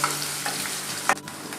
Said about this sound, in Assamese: অকণমান লৰচৰ কৰি ভাজি ল'ম পিঁয়াজখিনি অকণমান ৰঙচুৱা হোৱাকৈ